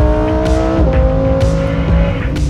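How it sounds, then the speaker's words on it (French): A Lamborghini Huracan Evo braking hard on a race track: a loud, steady engine drone whose pitch steps down sharply about a second in as the car slows, then keeps droning lower, with no talk. "Bon, par contre ça freine, c'est incroyable."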